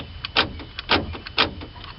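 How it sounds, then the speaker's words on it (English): A door lock assembly in a 2002 Toyota Camry, with the switch assembly still plugged in, clicks and clunks several times in quick irregular succession, close and fairly crisp, with no talking. "we'll test out the lock assembly, see if it clicks"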